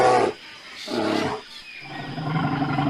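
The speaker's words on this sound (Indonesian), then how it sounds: "ini beruang madu teman-teman" A sun bear lets out a few rough, growling roars in close succession, loud and close, with deep, throaty bursts separated by short pauses.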